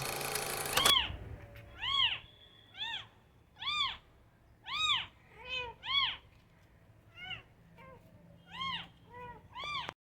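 A mother cat and her four newborn kittens meow repeatedly, about a dozen clear, rising-and-falling calls at a steady pace, the kittens' calls softer and thinner, in a quiet room.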